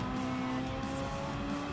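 Race cars in Gran Turismo 7 droning together in a pack, a steady, fairly faint engine hum with no distinct passes or squeals.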